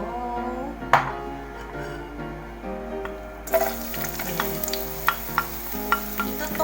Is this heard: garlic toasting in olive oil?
yes